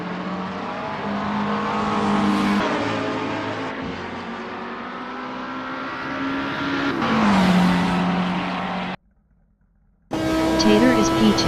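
McLaren 650 GT3 race car in a simulated GT3 event at Hockenheimring, engine droning steadily with rising revs and gear changes, a brief silent gap near the end, then a loud return with talk over it.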